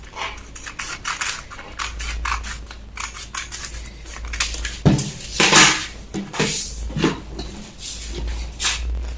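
Scissors cut through a paper cap sleeve pattern in quick rhythmic snips, close and crisp, in bursts with short pauses between them.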